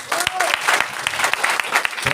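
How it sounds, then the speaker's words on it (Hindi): Audience applause at a 26 January Republic Day gathering with a chief guest: steady, fairly loud clapping from a crowd, sharp individual claps standing out, with voices talking over it. "भाई के लिए भी जोरदार ताली।"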